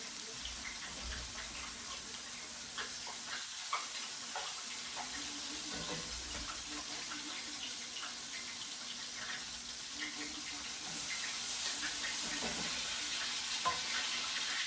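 Burgers fry in a pan with a faint, steady sizzle and hiss that grows slightly louder toward the end, with a few soft clicks and no voices.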